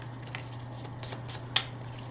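Board game cards being shuffled at a table for a Sprawlopolis game, producing a few soft riffling flutters and one sharp snap, quiet and close over a steady low hum.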